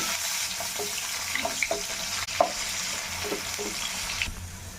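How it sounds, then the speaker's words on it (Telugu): Onions frying in hot oil in a pan for egg biryani, a continuous close sizzle broken by scattered stirring taps and scrapes, with one sharp knock midway. "ఈ ఆయిల్లో ఆనియన్స్ వేసేద్దాం"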